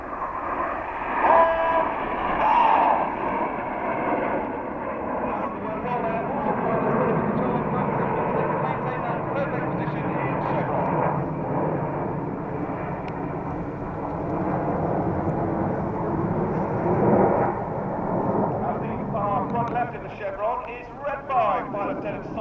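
Red Arrows jets fly the chevron roll at the 2009 Cosford Airshow, producing a loud, sustained roaring rush that swells and fades as they pass, heard under continuous commentary.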